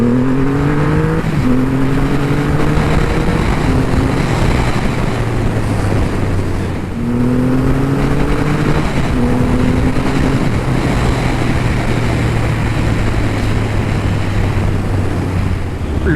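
A Triumph Rocket III GT motorcycle with a 2500cc, 167 hp engine accelerates hard through the gears. The loud, close engine note climbs in pitch, drops briefly at each shift, then settles into a steady roar.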